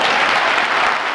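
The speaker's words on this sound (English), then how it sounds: "Cheers, applause, and hope filled the Geary County Convention Center" A packed convention-center crowd at the Geary County Convention Center claps and cheers in a dense, loud, steady wash of applause with no talk over it.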